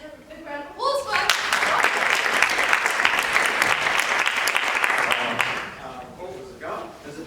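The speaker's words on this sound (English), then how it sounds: "can we please have a big round of applause" A school audience of parents and children breaks into a big round of applause, dense clapping swelling in after brief talk, holding steady for several seconds, then fading as voices return.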